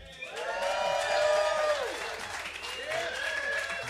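A live audience at a radio session in a museum performance theater claps and cheers, a full round of applause that swells and then eases off, with whistles ringing over it.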